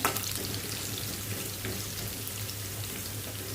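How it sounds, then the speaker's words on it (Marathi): Garlic fries in oil in a home kitchen while a Malvani-style mango raita is prepared, a steady soft sizzle and crackle like light rain that continues evenly from start to finish. "व्यवस्थित आपण परतून घेऊ, लसूण भाजून घेऊया।"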